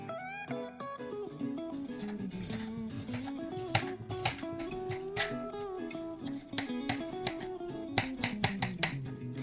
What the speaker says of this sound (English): So you start with chopping up your chilies and garlic.